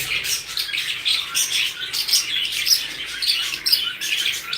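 Pet birds in a home aviary chirp and tweet continuously, a busy overlapping chatter of many small high-pitched calls with occasional squawks, fairly close and loud, with no talking.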